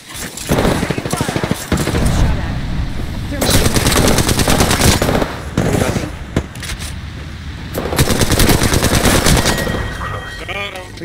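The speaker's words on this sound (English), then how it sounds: "I'm taking shots." Automatic weapon fire in the battle royale shooter Apex Legends: long, loud rapid-fire bursts with brief pauses between them, plus a few heavier shots, dominating the soundscape.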